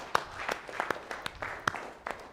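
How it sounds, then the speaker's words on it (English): Scattered audience clapping during a public speaking boot camp session, a handful of distinct, uneven claps spread out at moderate distance over quiet room tone. "Come on, let's clap for them."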